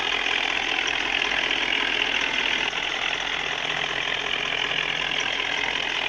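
A Maruti Suzuki Alto car engine idles in an Indian vehicle 3D driving game, a steady, even hum that holds at a constant level throughout with no pauses or revving and no voices.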